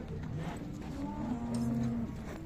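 Cattle at a livestock bazaar give a single drawn-out low moo, fairly close, with faint market background noise around it.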